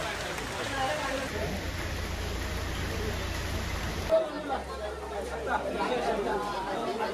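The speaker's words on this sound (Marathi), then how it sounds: "पाणी खूप पडत आहे म्हणून थांबलेलं आहे" Heavy monsoon rain falls steadily at the hill station of Matheran, a broad continuous hiss, with crowd chatter and voices talking throughout.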